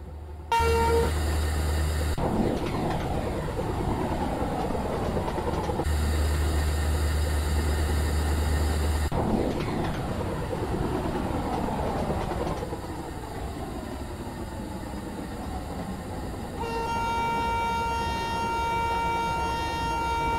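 A train running in a train simulator video game: a steady rail rumble broken by several long, loud horn blasts, one after another, with no talking.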